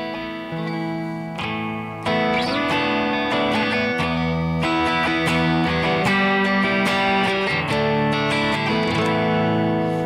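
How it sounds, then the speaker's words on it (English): An electric guitar runs through an effects unit, with distorted chords ringing into a bouncy, higher-pitched delay trail that repeats and sustains, loud and continuous with no voice. "I'll let you hear kind of that little tail, the trail that's coming off of it right now."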